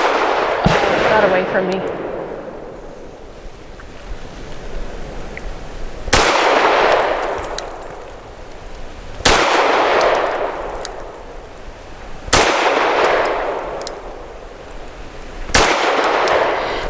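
SPS Pantera single-action pistol fired at a shooting range, five sharp loud shots spaced a few seconds apart, each with a ringing outdoor echo tail, someone speaking briefly between them.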